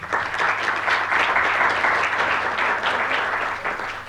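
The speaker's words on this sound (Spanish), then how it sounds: "con un fuerte aplauso, por favor" Dense, fairly loud audience applause at a Latin American internet governance session, continuous and even throughout before easing slightly at the close.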